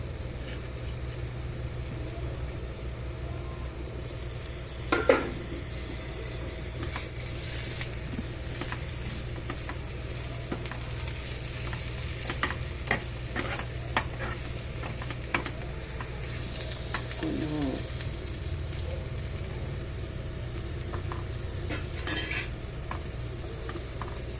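Sliced beetroot frying in a pan, with a steady sizzle and hiss running throughout and repeated scraping and clinking as a spoon stirs it against the metal, close and continuous.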